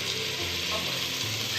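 Chopped onion hits hot oil in a frying pan for Algiers-style chakchouka with eggs and thyme, giving a loud, dense, steady sizzle that fills the whole short moment with no talking.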